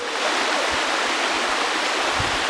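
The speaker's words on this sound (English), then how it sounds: "It's a pretty big waterfall." A large waterfall, about 150 feet tall, pours steadily, a dense, continuous rushing roar of falling water that fills the whole stretch without pause.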